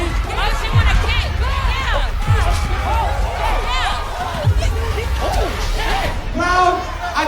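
A rowdy crowd at a Baddies Midwest reunion show taping fills the space with loud overlapping voices, shouts and chatter, a constant babble with sharp bursts and thumps throughout.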